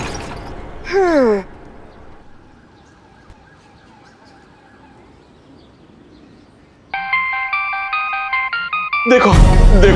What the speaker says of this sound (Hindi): हमारी मैडम का फोन बज रहा है